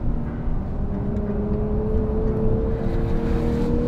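2017 Porsche 911 GTS driven fast on a track, its engine giving a sustained close, loud drone with a slowly rising tone under heavy wind and road roar.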